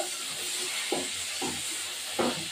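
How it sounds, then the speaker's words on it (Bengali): Chopped onions frying in hot oil in a pan for a spiced chicken curry, a steady bright sizzle with a few soft clunks and scrapes as they are stirred close up. "এবার এই পেঁয়াজগুলো ভেজে দেবো। পেঁয়াজগুলো দিয়ে দিলাম।"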